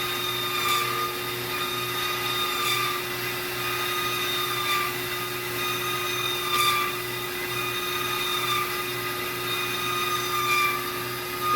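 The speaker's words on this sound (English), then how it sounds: "So here you are in a used one cutting like that" A used HEM VT150A-SS vertical band saw cuts metal with a steady motor drone and a high, ringing blade whine. Faint periodic scraping pulses sit on top. The sound is continuous and close, and no one talks.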